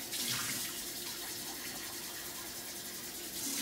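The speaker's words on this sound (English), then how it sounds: "go ahead and run the water on" Water running steadily from a tap, a constant hiss of flow holding for a few seconds with no talk over it.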